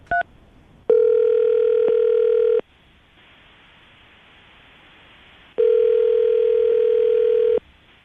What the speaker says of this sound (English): I'm going to dial the phone number right now